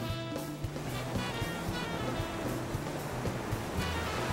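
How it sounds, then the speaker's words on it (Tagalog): Beach surf at Boracay: a faint, steady wash of ocean waves. The low, continuous roar carries no voices. "Naririnig ko yung mga alon."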